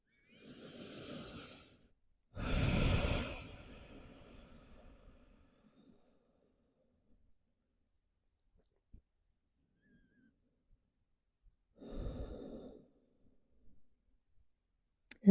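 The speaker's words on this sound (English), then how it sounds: "And we breathe here." Slow, soft breaths during a yoga back stretch, a long inhale and exhale followed by one more breath after a long pause of near silence.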